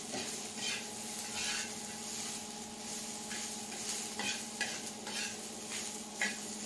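Green chili thecha with salt is stirred in a pan. A spoon scrapes against the metal in repeated close strokes over a soft, continuous sizzle.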